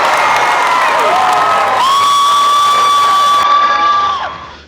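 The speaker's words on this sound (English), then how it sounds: "we're in for a loud crowd at Marvel Stadium, being surrounded by a bunch of Blues fans" A loud crowd at an AFL game in Marvel Stadium roars and cheers, with sustained shouting and high whoops swelling close by before tapering off at the end.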